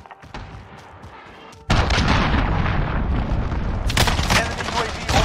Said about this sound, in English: Enemy missile, take cover!